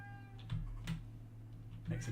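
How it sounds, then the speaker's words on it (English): A pet cat gives three short, faint whining meows at a steady pace over a low electrical hum in a quiet room. "That whining noise you can hear is my pet cat."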